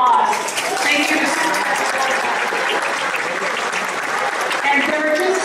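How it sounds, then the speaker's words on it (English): Audience applause at The Irish Center 2025 project launch party, honoring Supervisor Marr: a dense, steady wash of clapping that fills the room evenly for several seconds. "so if we can give him another big round of applause"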